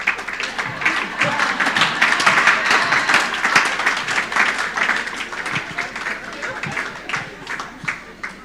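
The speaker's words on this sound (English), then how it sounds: "A hand of applause to our moderator for today." Conference audience at a gender-equity technology event applauding the moderator, a sustained dense clapping that swells in the middle and tapers toward the end, with scattered individual claps audible.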